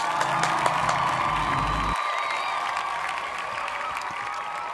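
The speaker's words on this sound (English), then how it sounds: "Give yourself a virtual clap." Applause sound effect of a cheering crowd clapping and whooping, steady and fairly loud throughout, played in an online PE and health lesson.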